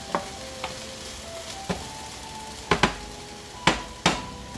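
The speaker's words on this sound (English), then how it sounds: "the vegetables are sauteing back here" Vegetables sauteing in a pan beside browned meat for a baked penne-ziti: a soft sizzle with a scatter of sharp utensil clicks and taps against the pan, clustered toward the end, close and moderately loud with no talking.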